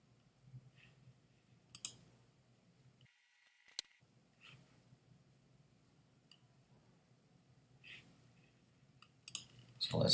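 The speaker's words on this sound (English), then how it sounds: "Now you just click open anyway." A computer mouse clicks a few times, faint and scattered, on a Mac during software installation in a quiet room.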